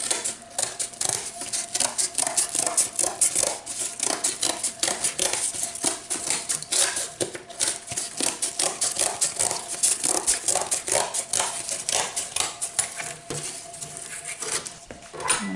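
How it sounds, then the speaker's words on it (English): A 10-inch cake board being cut down to size with a rapid run of close, crisp snipping and scraping strokes that continues steadily, with no talk over it. "I'm just going to use my pan as a guide onto my 10-inch board and just cut it down to size"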